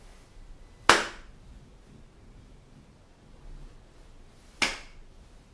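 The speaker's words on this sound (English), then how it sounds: "Now, instead of clapping the beat, I'll clap the rhythm." Two sharp hand claps sound several seconds apart in a quiet room, each crisp and close, with near silence between them.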